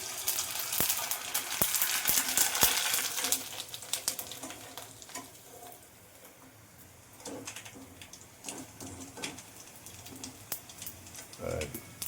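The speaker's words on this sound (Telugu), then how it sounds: "వెండిన తర్వాత చూసారా అలా చక్కగా నూనెలో వేయించుకుని" Wheat rava vadiyalu frying in oil, a steady soft sizzle with occasional stirring clinks and scrapes, close and fairly quiet, with faint speech in the background.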